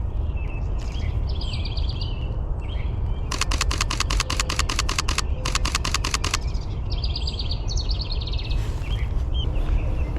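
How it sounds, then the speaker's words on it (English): A house wren and a white-crowned sparrow sing outdoors during spring migration, with repeated song phrases and a fast rattling trill standing out over a steady, broadband background roar. "The house wren and the white-crowned sparrow."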